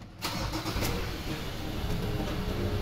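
A Ford Ranger with a lit powertrain warning light cranks and catches, then settles into a steady, fairly loud idle that runs on without speech.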